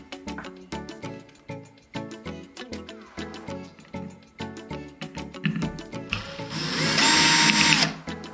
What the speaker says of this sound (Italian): Andiamo a svitare anche questa qui con una punta piatta.